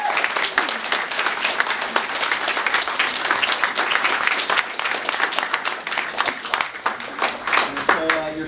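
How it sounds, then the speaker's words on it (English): Audience at an SIUE BFA art show artist talk applauding, dense steady clapping from a crowd that carries on throughout, with a voice briefly heard near the end. "let's give all of our artists another round of applause."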